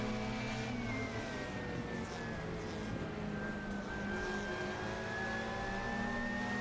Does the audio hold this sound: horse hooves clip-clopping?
no